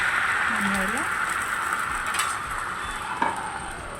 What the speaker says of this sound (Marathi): आता आपण घावणा खायला सोडायचं आहे त्याच्यावरती